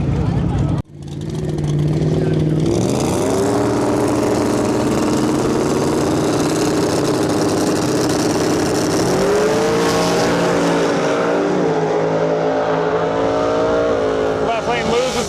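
A twin-turbo S10 and a twin-turbo F-150 drag race side by side on a sketchy track surface, their engines roaring loud and close after a brief hush, then winding up through rising gear changes with a crowd and announcer underneath.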